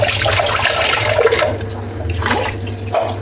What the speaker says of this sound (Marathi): आता मी हा भात धुते.